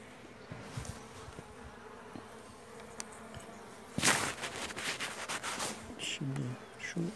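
Honey bees buzz on a hive frame from a weak colony, a close droning hum throughout that swells louder midway, with faint Turkish speech and handling noises mixed in.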